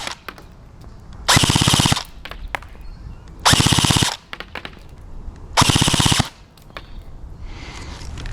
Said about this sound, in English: I'm going to shoot at a 1 meter diameter target from a distance of 30 meters away